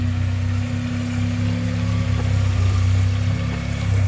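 A Toyota Corolla RunX (E12 generation) hatchback idles steadily nearby, a loud, even low engine hum with a strong steady drone and slight fluctuations, heard alone with no talking.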